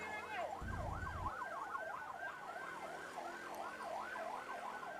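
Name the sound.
ambulance siren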